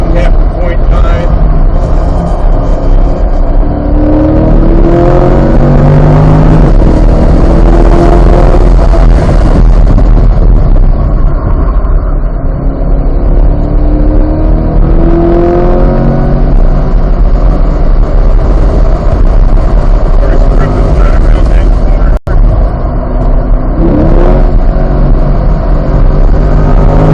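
A 2023 Corvette C8 Z51 lapping Gingerman track with the transmission in automatic mode, the engine loud and close as its pitch repeatedly climbs and drops through gear changes, with a voice talking over it.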